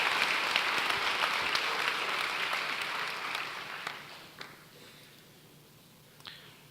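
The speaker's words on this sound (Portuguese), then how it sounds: "Quantos podem dar um aplauso ao Senhor?" A church congregation applauds together during a sermon, a dense wash of clapping that thins and fades out over several seconds, leaving a few scattered late claps.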